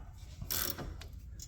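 A ratchet clicks in quick bursts while tightening the outer tie rod end on a 2014–2019 Vauxhall Corsa E, the close metallic ratcheting heard alone.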